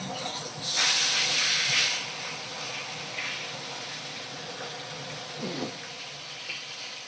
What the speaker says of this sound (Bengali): এক সাইডটা ভালো করে ভাজা করে নিয়েছি আর এক সাইডটা ভালো করে ভাজা করে নিচ্ছি।